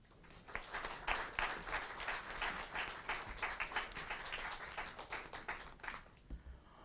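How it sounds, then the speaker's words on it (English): Audience applause for Mayor Kate Stewart at a music and lyrics poetry event, dense clapping from a crowd sustained for several seconds before thinning out near the end. "let's give our Mayor Kate Stewart another round of applause"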